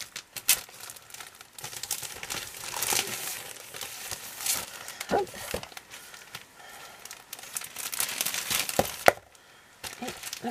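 Coloured papers and labels crinkle and rustle as they are unpacked from a craft stationery order, with irregular crackling handling noises of moderate loudness throughout and no talking.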